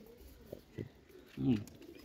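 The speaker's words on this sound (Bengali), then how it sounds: "খুব সুন্দর প্যাটার্নটার কবুতর, একই নসলের কবুতর দেখছেন।" Fancy-breed pigeons kept for sale give a few soft, low coos close by, ending in a fuller throaty coo, over a quiet background.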